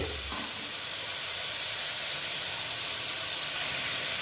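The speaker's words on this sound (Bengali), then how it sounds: "একটু জল দিয়ে দিলাম জল দিয়ে একটু নেড়ে চেড়ে নিচ্ছে" Pumpkin curry seasoned with coriander powder hisses and sizzles steadily in the pan after a splash of water, a dense, continuous steamy hiss with a faint stirring undertone, close and even throughout.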